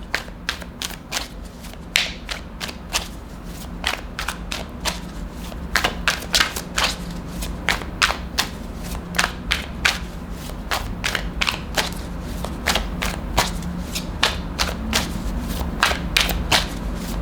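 Tarot cards being shuffled by hand: a steady run of crisp riffles and snapping card flicks, close and fairly loud, continuing without pause and with no one talking.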